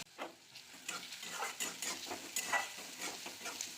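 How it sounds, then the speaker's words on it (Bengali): Chopped onions with salt frying in a pan, a soft steady sizzle broken by rhythmic scraping strokes of a spatula stirring, close and moderately quiet, with no voices. "পেঁয়াজ ভাজা হয়ে গেছে"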